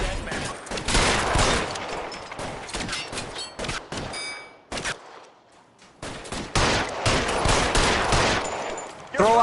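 Gunfire in L.A. Noire: dense, rapid volleys of shots and bursts that keep coming, with a brief lull in the middle before the shooting resumes, loud and close, with scattered voices in between.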